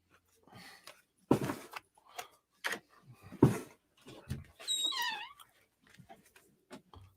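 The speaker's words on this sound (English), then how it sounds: "That explains why the dog was crying" A dog whimpers and whines indoors, with scattered short bursts and a rising and falling high whine midway, moderately faint and alone.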